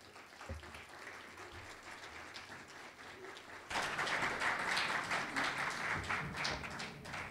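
An audience at a lecture in an academic conference series breaks into loud, dense applause partway through, after a stretch of quieter room murmur, and the clapping holds steady to the end.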